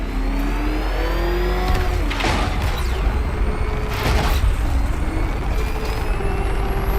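The Batmobile in Batman Arkham Knight roars under afterburner boost, a loud, sustained engine drone with rising whooshes and bursts of acceleration throughout.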